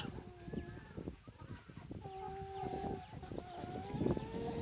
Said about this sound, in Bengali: এটা আমার তিন হাজার মুরগির ঘর